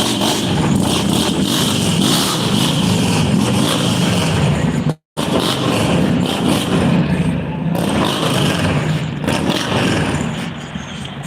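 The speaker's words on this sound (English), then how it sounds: "It's a nice motorcycle." A motorcycle engine revs and roars close by, loud and continuous with rising and falling throttle, cutting out briefly for an instant midway before resuming.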